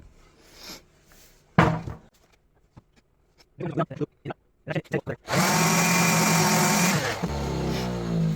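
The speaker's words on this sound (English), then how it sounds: "you could squeeze a little bit of glue in there and then sand it flush" After some brief taps and handling noises, a power sander roars loudly for about two seconds sanding a glued wooden cutting board flush, then cuts off to a quieter hum.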